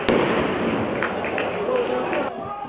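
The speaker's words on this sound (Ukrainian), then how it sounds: "Фанати Поділля одразу ж відреагували фаєрами та петардами на пропущений гол своєї команди." Flares and firecrackers set off by football fans at a stadium match, heard as a sharp bang near the start and then a dense, continuous crowd roar with scattered pops and thuds, a few voices audible within the noise.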